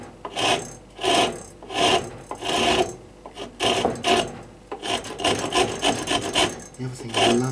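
A rasp with teeth all the way around files a wooden bow tip in a workshop, giving about a dozen rhythmic, rough scraping strokes close up with short pauses between them and no talk.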